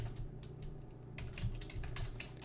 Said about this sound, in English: now we might have a little bit less keyboard noise